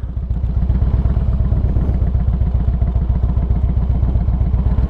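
A motorcycle pulling away as the clutch is let out, its engine close and loud with a steady rapid thumping pulse throughout, no talking.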